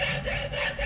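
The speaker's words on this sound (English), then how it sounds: "So now let's cut this stock of Delrin into a couple sliders." A hand saw cuts through a block of Delrin plastic in quick back-and-forth strokes, a close, rough rasping rhythm of about three strokes in under a second.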